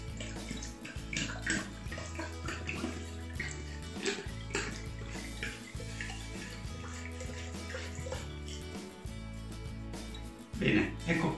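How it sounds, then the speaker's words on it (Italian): Water poured into a container of washed elderflowers and vinegar to make elderflower syrup, a steady close splashing and trickling stream that runs throughout, with a brief louder gush near the end. "A questo punto mettiamo anche il bicchiere di aceto e aggiungiamo l'acqua."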